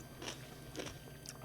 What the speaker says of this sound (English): Oh, I love a good crunchy pickle.